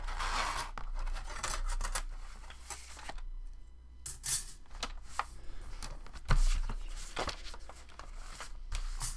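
Scissors snipping through a piece of paper or card for a chunky mini journal, several close, crisp cuts in short bursts with rustling handling between them.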